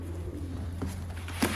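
Pigeons coo softly close by in Sialkot, with low, throaty calls over a steady background hum.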